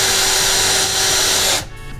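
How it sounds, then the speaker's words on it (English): A power drill boring through a front splitter lip on an Evo 7, a loud steady whine close by that cuts off abruptly near the end. "hopefully this isn't too hard to drill through"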